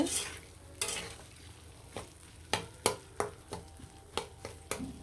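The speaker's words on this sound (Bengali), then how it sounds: "আলুটা ভাজা ভাজা করে দিব মশলার সাথে একদম সুন্দরভাবে মিশিয়ে দিব" Potatoes stir-fried with spices in a pan, a soft steady sizzle broken by a quick run of sharp spatula scrapes and taps against the pan, quiet and close, with no talking.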